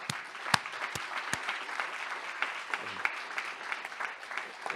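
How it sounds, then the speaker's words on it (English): Applause from the audience at an integrative medicine summit, a steady patter of clapping heard from a distance and fairly faint, with a few sharper nearby claps standing out early on. "I think we should all give them a round of applause."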